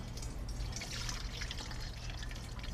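Water from cooked matzo drained in a kitchen, a steady broadband trickle and splash running continuously at close range with no talking.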